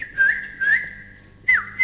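A bird in a forest gives short whistled chirps, clear and fairly close, in three or four separate calls with pauses between.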